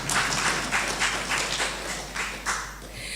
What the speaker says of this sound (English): So you can also clap for us,